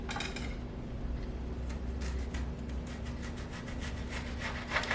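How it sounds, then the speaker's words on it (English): A knife slices through an onion into rings, producing steady, rhythmic cutting and rubbing strokes against a board, close and fairly loud, with no talking. "So we slice up here 1 onion."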